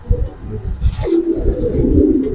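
Giribaz pigeons give low, soft coos, close by and brief, mixed with rustling and handling noise, while a person talks nearby.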